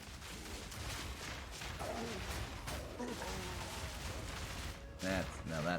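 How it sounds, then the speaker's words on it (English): Grenade explosions from a bleed grenadier build in Path of Exile 2 pile up in a dense, continuous roar of blasts and crackling combat effects, with brief tonal game chimes near the end. "Those explosions I do like."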